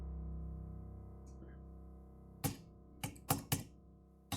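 Several sharp, separate key taps on a computer keyboard, a short cluster of four or five clicks arriving close and fairly loud after a quiet hum.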